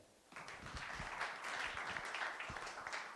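Brief burst of audience applause at a venture capital panel event as the next sponsor speaker comes up, a crowd of hands clapping fairly close with some distinct individual claps.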